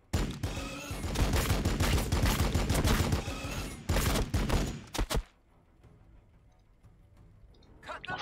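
A gunfire volley in the Warhammer 40k BattleSector video game, a loud, dense burst of crackling shots for about five seconds with a short pause, then cutting off to quiet ambience.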